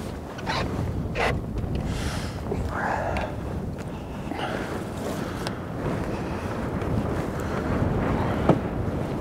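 Wind gusting against a landing net while landing a fish, a loud, steady, rough rumble near the microphone, with water sounds and brief voices in the background.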